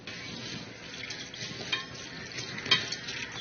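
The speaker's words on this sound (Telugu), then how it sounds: "వీటిని ఒక గిన్నెలో వేసుకుని నీళ్లు పోసి శుభ్రంగా వాష్ చేసుకోవాలి" Sago pearls being washed by hand in a bowl of water: soft, steady sloshing and stirring with light splashes and a couple of sharper clinks, close and quiet, with no talking.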